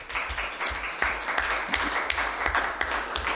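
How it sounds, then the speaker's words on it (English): Audience applause at a high school board meeting honoring new Beta Club inductees, a steady patter of clapping from a moderate-sized crowd lasting a few seconds without speech. "Good applause."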